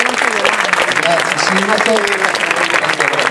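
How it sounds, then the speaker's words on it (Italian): Audience applause welcoming the mayor Angelo Marengo at an AISM benefit concert evening in Castell'Alfero, a dense steady clapping throughout with a voice speaking over it. "Eccolo qui, accogliamolo con un bel applauso."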